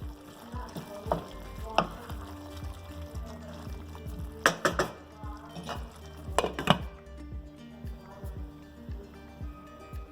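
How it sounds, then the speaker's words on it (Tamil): A spoon stirs broad beans curry with tomato in a hot pan of frying oil, steady sizzling broken by scraping, clinks and sharp knocks against the pan, with a few faint words spoken in the background. "கிண்டி விட்டுக்கோங்க."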